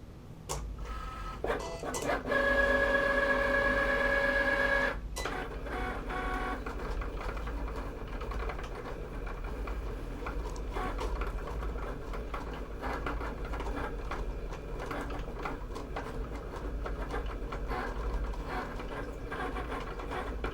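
A Cricut machine cuts an intricate vinyl tree design, whirring and ticking mechanically with a louder tonal whine for a few seconds early on, then settling into continuous, busy cutting noise.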